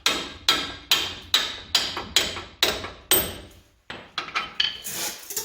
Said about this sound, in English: tap the end of it with the hammer.